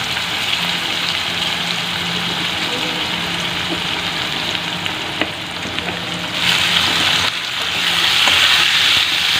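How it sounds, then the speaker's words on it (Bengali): Potatoes fry in a karai with a steady, close sizzle that runs throughout and swells louder toward the end, with light stirring and spattering mixed in. "এই যে আলুটাই প্রথমে ভাজতে দিয়ে দিলাম"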